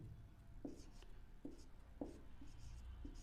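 A pen writes a definition by hand, giving soft scratchy strokes with a few sharper taps at a steady pace, faint and close under a quiet room.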